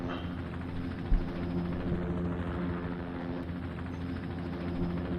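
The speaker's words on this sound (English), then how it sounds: "I hear a helicopter in the background." A steady low rotor drone of a helicopter hums in the distance, constant and unchanging beneath a faint background hiss, with no talking.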